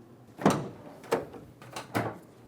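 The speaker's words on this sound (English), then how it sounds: "Let's open the rear door so we can make our way on the inboard side." Rear door of a Ford Transit 250 van being opened, heard as three distinct clunking, rattling impacts spaced about half a second to a second apart, fairly close and alone with no talk.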